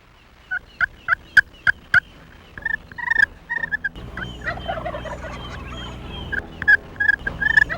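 A wild turkey gobbles repeatedly during a black powder turkey hunt, loud, rapid rattling gobbles in several bursts, some close together and some spaced apart, with quieter rustling and movement in between.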